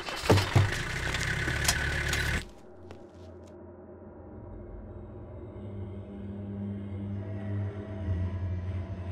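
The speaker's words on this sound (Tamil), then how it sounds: "வண்டி வந்துருச்சு." A vehicle engine idles steadily at low pitch, fairly faint, after a louder burst of mixed noise at the start; no talk over the running engine.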